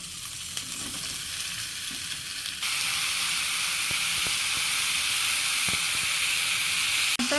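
Vegetables added to fried potatoes in a pan, a moderate sizzle that jumps louder partway through and then holds as a dense, steady frying hiss with occasional scraping clicks of stirring, close up and without talk.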